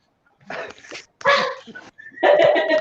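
Small dogs bark and yap in a few short bursts at moderate volume, with brief gaps between the bursts.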